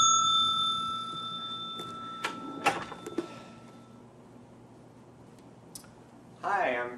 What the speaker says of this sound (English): please ring bell for attendant